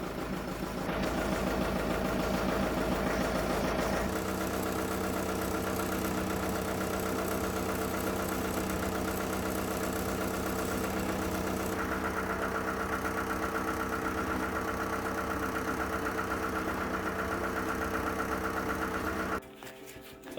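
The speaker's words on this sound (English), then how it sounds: "Alright, I got the tractor on." A Ford 601 Workmaster tractor engine idles steadily and close by, with a constant low rumble that shifts slightly in tone partway through before cutting out near the end; no one speaks.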